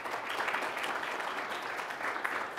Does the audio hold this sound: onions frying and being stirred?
no